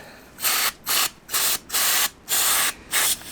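Short bursts of aerosol contact cleaner sprayed into a motorcycle part, about six hissing blasts in quick succession with brief pauses between, close and fairly loud.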